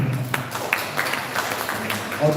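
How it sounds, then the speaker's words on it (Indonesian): An audience claps for a female coordinator at an event, a scattered, moderately loud patter of hands mixed with voices and chatter in the room. "Tepuk tangan buat koordinator."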